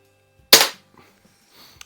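A Daisy pellet target pistol fires a single sharp, close crack, followed by a faint mechanical click and some light handling noise.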